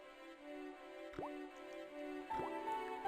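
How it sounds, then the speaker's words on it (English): Two separate water drips land with soft plops a little over a second apart, each a quick falling blip in an otherwise quiet game scene where a slow drip wets a towel in Broken Sword: The Shadow of the Templars, no voices present. "the slow drip of water barely dampened the towel"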